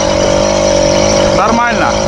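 A homemade bicycle-based all-terrain vehicle engine revs loud and steady while driving over sand, with a continuous droning note that lifts slightly toward the end.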